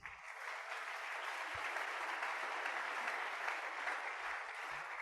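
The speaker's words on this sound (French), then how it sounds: "Acclamons Jésus" A church congregation breaks into applause during a French-language sermon on prayer, a steady and dense clapping that fills the room for the full five seconds with no one speaking.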